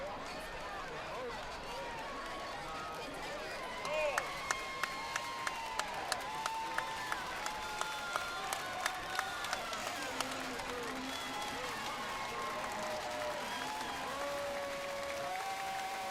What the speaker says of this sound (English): can hear the crowd